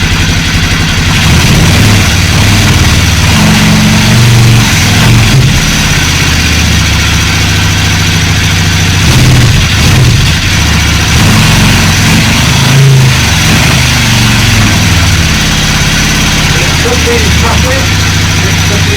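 A Hyosung Aquila GV250 motorcycle engine, being rebuilt and still cold, runs steadily and loudly throughout with a continuous low throb and slight rev variations, and a voice is faintly present beneath it.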